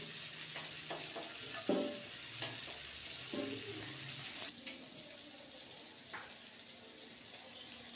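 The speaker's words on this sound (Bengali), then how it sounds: "আলুটাকে ভালো করে ভেজে নেব" Potatoes frying in hot oil for a chicken curry, a soft continuous sizzle with occasional stirring clinks and scrapes, quiet and close.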